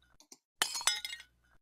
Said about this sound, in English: something that's not water, is the glass breaking sound